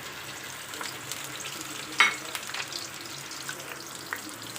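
Onions sizzle steadily in a hot pan for white chicken karahi with a dense, even crackle, broken once by a brief metallic clink.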